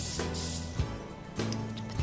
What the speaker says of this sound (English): I'm gonna spray it with a nonstick butter spray.